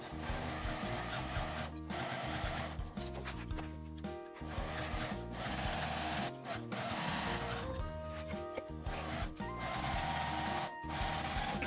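A sewing machine stitches two layers of vinyl coated laminate fabric together for a bag seam, with a close, steady whirring needle rattle that runs continuously, broken by brief pauses and small shifts in pace, and no talking.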